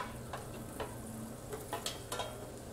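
White mushrooms sautéing in a pan, with faint steady sizzling and several soft, irregular stirring clicks, quiet and close with no talk.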